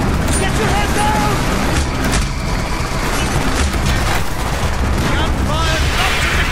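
Rapid gunfire crackles continuously in the video game Call of Duty: Black Ops amid a loud, dense mix of explosions and action noise, with voices shouting over the din.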